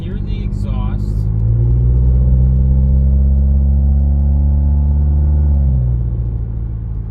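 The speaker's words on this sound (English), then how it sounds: "The audio is okay because you can hear the exhaust." A 2015 Subaru WRX engine drones steadily with a deep, throaty exhaust rumble, holding for several seconds and then easing off, after a brief noisy start.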